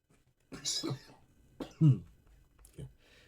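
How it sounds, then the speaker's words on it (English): A couple of short, rough coughs, close and fairly loud, separated by brief pauses, with a small throat-clearing sound at the end. "sorry, I had a little bit of cough."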